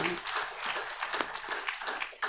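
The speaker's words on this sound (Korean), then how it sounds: "찬양을 받으신 하나님께 영광의 박수를 올려드리겠습니다" A church congregation at Sunday worship applauding, steady crisp clapping from many hands at moderate distance in a reverberant hall.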